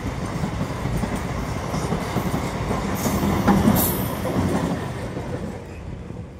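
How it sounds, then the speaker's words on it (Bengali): A passenger train running from Goghat toward Arambagh station passes close by near the Dwarkeswar rail bridge. Its heavy rolling rumble swells to a peak at the midpoint, with a brief high squeal, then slowly fades away. "এই ট্রেন এখন গোঘাট থেকে আসছে আর এখন যাচ্ছে আরামবাগ স্টেশন"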